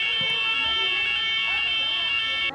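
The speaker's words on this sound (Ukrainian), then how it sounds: "Якраз перед початком у залі спрацювала пожежна сирена і вила, аж поки депутати спорожнили залу." A fire alarm siren wails steadily and loudly inside a European Parliament assembly hall, a sustained multi-tone electronic howl that holds for the whole stretch before cutting off.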